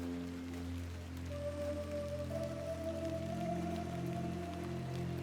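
Rain in the video game The Excavation of Hob's Barrow, a soft continuous patter under low droning ambient tones and a rising held note, steady and fairly quiet with no talking.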